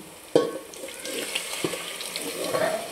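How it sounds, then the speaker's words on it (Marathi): Hot water is poured into a pan of cooked mutton curry, a sudden splash followed by sizzling, bubbling and a couple of stirring knocks, close and moderately loud. "त्याच्यामुळे थोडंसं आपण गरम पाणी टाकणार आहे."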